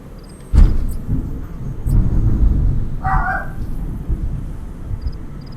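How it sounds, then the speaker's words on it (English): Thunder from a lightning strike in the video game Metal Gear Solid V: The Phantom Pain opens with a sudden loud crack, then rolls into a steady low rumble that fades slowly. "Lightning striking over here."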